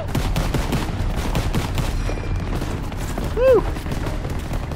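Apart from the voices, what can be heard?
gunfire in the video game Call of Duty: WWII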